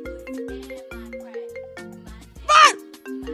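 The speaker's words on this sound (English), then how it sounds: "Vert, your phone ringing." A mobile phone ringtone plays a repeating electronic melody of short tonal notes in a steady rhythm, fairly close, with a brief burst of another noise near the end.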